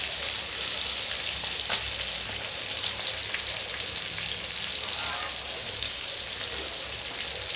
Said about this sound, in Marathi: तर तुम्ही पाहू शकता ही मच्छी खरपूस अशी छान रीतीने भाजत आलेली आहे.